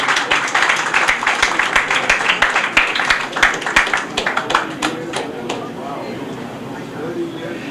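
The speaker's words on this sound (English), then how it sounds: "let's give them a big round of applause" A crowd claps enthusiastically, a dense burst of applause that gradually thins out and fades, with voices murmuring underneath toward the end.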